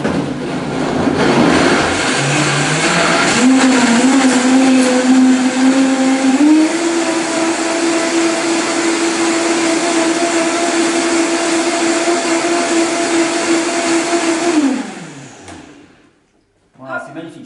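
A countertop blender runs steadily for about fifteen seconds, blending raw soup, its motor note rising in pitch partway through and then holding a loud whine before cutting off and winding down.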